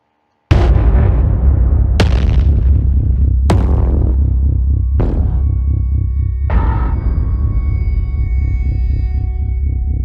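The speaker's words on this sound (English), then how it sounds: "What you hear is a gavel in a courtroom in the United States." A gavel strikes five times in a United States courtroom, each heavy, booming knock spaced about a second and a half apart and ringing on in a loud, resonant reverberation.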